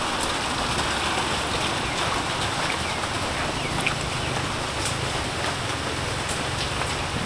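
Steady, heavy rain pours across a farm with water buffalo, cattle and goats during a typhoon, a dense unbroken hiss with faint bird or fowl calls in the background and no speech.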